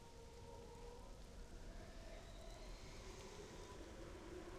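Steady, dense rain hisses continuously in a video game, a soft even wash of falling drops with a low rumbling undertone and no voices.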